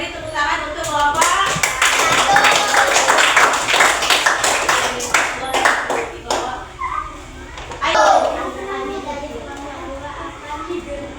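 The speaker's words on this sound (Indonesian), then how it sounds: "Beri tepuk tangan untuk kelompok." A third-grade class of children claps for a group during a prayer practice lesson, bursts of brisk clapping mixed with children's voices and chatter, loud and close.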